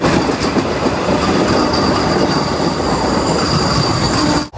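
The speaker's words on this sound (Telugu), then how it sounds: "ట్రైన్ కదిలిన తర్వాత వెళ్ళిపోదాం మనం" A passenger train pulls away from a station near a temple fair, its wheels squealing and rumbling loud and close, with rail clatter and a high metallic whine filling the whole stretch before it cuts off at the end.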